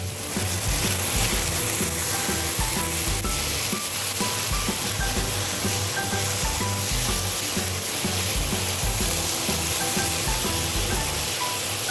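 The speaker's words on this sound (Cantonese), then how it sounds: "將頭先洗乾淨、索乾水分嘅排骨先落去煎一煎先" Pork ribs pan-frying in hot oil with ginger and garlic in a wok, a steady loud sizzle with crackling pops throughout, no voices.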